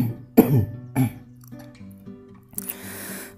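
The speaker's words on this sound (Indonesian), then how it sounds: "maaf ya, saya agak kayak batuk." Two sharp coughs close to the mic, about half a second apart, from a man giving an Indonesian software tutorial, followed by quieter throaty sounds and a brief hiss.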